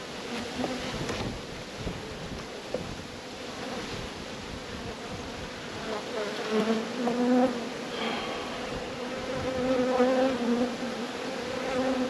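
A dense, continuous hum of many honeybees buzzing around a hive, steady and close, with pitch wavering slightly as they move about.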